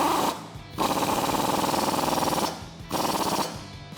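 Impact wrench with a 21mm socket and extension tightening a track bar bolt on a Jeep Wrangler JK, two loud rapid hammering bursts separated by short pauses, close up and without talk.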